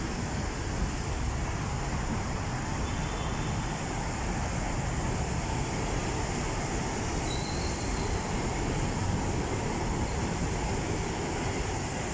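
An MRT train running toward Cubao during a typhoon, heard as a steady, broad rumble and rush of rain and wind, with no distinct passing peak and no talk.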